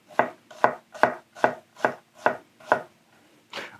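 A knife chops through onion on a cutting board in eight steady, evenly spaced strokes, each a crisp close thunk, with a short pause before the last cut.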